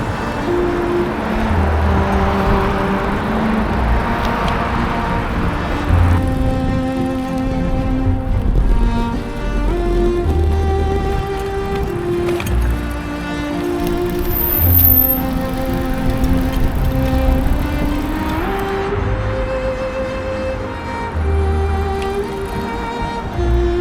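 Busy city road in West London beside a segregated cycle lane: a continuous loud wash of cars, trucks, buses and vans rolling past, engines droning and tyres hissing, with occasional horn toots and a faint aircraft overhead.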